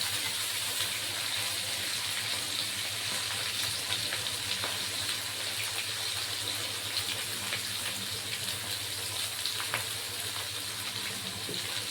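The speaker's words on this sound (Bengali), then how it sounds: "এদিকে আলুও ভাজা হয়ে যায়, এখানে মাঝখানে একটু পেঁয়াজটাও ভাজা হয়ে যায়।" Potatoes and onion paste frying together in a pan of oil for a Bengali katla fish curry, a steady, close crackling sizzle that holds evenly throughout with no speech.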